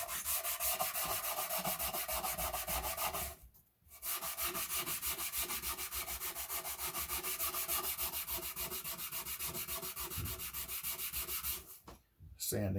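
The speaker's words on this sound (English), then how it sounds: "Sanding up all of the parts you're going to paint." Continuous rhythmic scrubbing of a Scotch-Brite pad on metal gun parts before painting, close and steady, pausing briefly twice before resuming.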